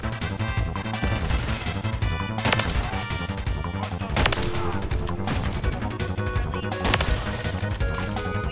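Sniper rifle fire in a Call of Duty match on a marksman rifle, sharp loud cracks at irregular intervals over dense game music and effects, some shots punching through glass, no voices.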